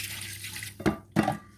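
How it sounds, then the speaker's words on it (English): Water poured into a pot of okra soup cooking with prawns and small dry fish comes in two short, splashy bursts close up, over faint background hiss. "I'll add some water"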